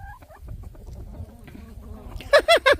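Chickens being fed give a few loud, close clucks near the end, following a stretch of quieter low rustling and movement.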